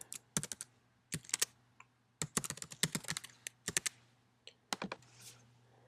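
Keys clack on a computer keyboard as a username and password are entered, quick bursts of crisp close taps with short pauses between, over a faint steady hum and no talk.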